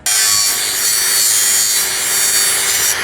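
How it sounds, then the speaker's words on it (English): A saw grinds continuously through steel for a tiny home base frame, a loud, harsh, steady rasp filling the whole stretch without a break. "what a big job to cut all this steel"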